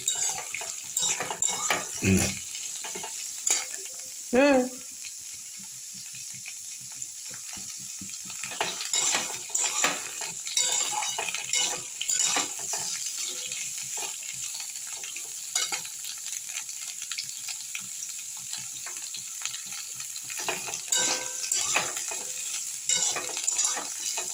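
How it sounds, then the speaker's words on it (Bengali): Mixed vegetables fry in a pan while being stirred, a steady sizzle broken by scraping and clanks of a utensil against metal, with a couple of sharp knocks early on. "বেশি ভাজার দরকার নেই, সবজিগুলো অল্প করে ভেজে নিলেই হবে"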